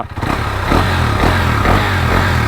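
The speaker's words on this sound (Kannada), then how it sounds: "ಗಾಡಿನ ರೆವ್ ಮಾಡಿ ಚೆಕ್ ಮಾಡಿರಿ, ಕರೆಕ್ಟಾಗಿ ರೆಸ್ಪಾಂಡ್ ಆಗ್ತಾ ಇದೆಯಾ ಅಂತ" Higher-displacement motorcycle engine revved during a throttle-response check on a second-hand bike, a steady loud near rumble that swells into repeated throttle blips over a low idle.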